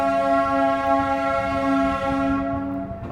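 Amritsar Mumbai Express pulling away from Sonipat junction station, its loud, steady horn sounding with rich layered tones for about three seconds before cutting off, with rumbling train noise beneath.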